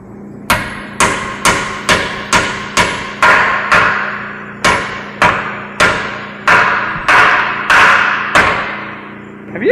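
A hammer strikes a hard surface about fourteen times in a steady rhythm, each blow a loud, sharp thump with a short ringing decay, close by with no talking.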